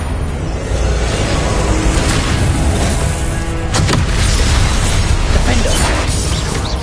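The Confringo explosion spell in Hogwarts Legacy on PS5 bursts with booming blasts and crackling debris amid dense combat noise, loud and continuous, with a sharp impact near the middle.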